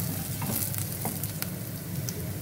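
Flour frying in a pan for a Telugu buttermilk rice-flour dish (challa pindi), with a steady soft sizzle and gentle scraping of the stir, close and continuous with no talking.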